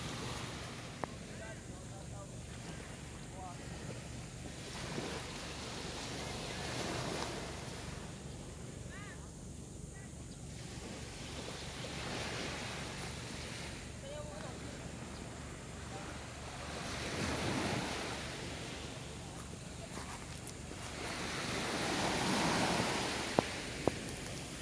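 Sea waves washing steadily at White Beach, Puerto Galera, with a continuous broad surf wash, some wind buffeting on the microphone, and faint distant voices mixed in.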